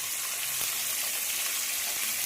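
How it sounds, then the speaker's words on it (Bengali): Fish fries in a pan in a home kitchen, a steady, even sizzle and crackle heard close up, with no talking. "মাছটা ভাজা করে নিই"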